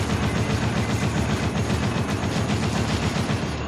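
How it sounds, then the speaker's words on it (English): A mounted gun in the video game Dead Rising fires continuously, a loud steady rapid rattle of automatic fire that runs the whole time without a break. "We've got this mounted gun."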